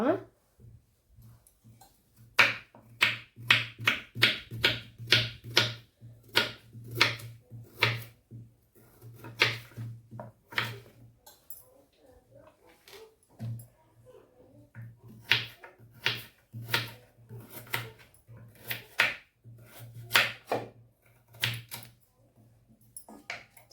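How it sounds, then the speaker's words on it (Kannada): Four washed carrots are chopped into small pieces on a board for carrot halwa, sharp knife taps falling in quick even runs with pauses, close and fairly quiet against a low steady hum. "ನಾಲ್ಕು ಕ್ಯಾರೆಟನ್ನು ಚೆಂದ ಮಾಡಿ ತೊಳೆದು ತೆಗೆದಿಟ್ಟಿದ್ದೇನೆ ಇದನ್ನು ಕಟ್ ಮಾಡುವ"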